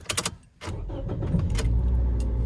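A 2000s-era Toyota Yaris with 106 horsepower and 93,000 miles pulls away on the open street, a brief clatter giving way to a steady, close engine drone and road rumble inside the cabin.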